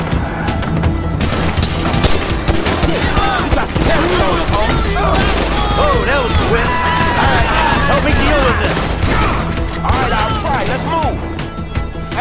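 Dense, loud bursts of gunfire in the Grand Theft Auto III video game crackle almost continuously, with excited voices talking over the shooting.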